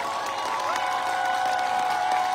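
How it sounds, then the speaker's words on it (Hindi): Applause from a crowd, steady and moderately loud, with a faint tonal hum running underneath throughout. "जोरदार तालियां बजाते रहे और बजाते रहे"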